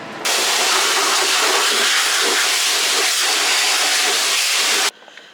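A pressure washer blasts the wheels of a car clean, one loud continuous close hiss of spray that starts abruptly and cuts off near the end, with no talk.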